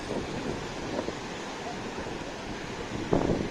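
Baltic sea waves wash onto the shore at Palanga beach in a low, continuous rumble. Heavy wind buffeting over the microphone partly masks it, and a louder surge arrives near the end.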